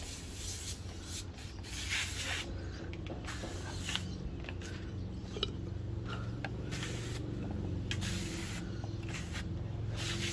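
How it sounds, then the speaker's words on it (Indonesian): A hand sprayer hisses steadily in long bursts over grapevines of the Dixon variety growing in pots, close to the microphone and moderately loud, with faint rustling and handling noise between the sprays. "Oke, tersiernya juga kita semprot."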